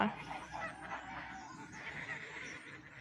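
Geese and ducks at a farm in Germany honk and squawk in a faint, distant chorus, with overlapping calls repeating irregularly throughout.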